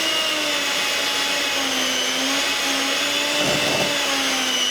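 A fast electric mixer whirs steadily as it creams chocolate cake batter in a bowl, a continuous motor drone with a brief bump in the beaters' noise near the end.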